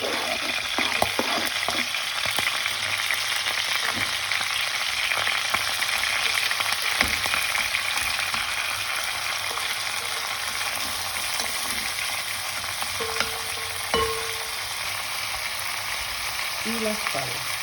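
Chopped onion and garlic fry steadily in a hot pan for polenta with osso buco, a dense, even sizzle with occasional scrapes and light clinks, no voice over it.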